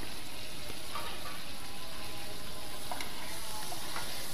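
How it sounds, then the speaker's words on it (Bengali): Fried boal fish is added to masala sizzling in hot oil, giving a steady frying hiss with faint stirring clinks, close and continuous. "এবারে মশলাটা ভালো করে কষিয়ে ভেজে রাখা মাছগুলো"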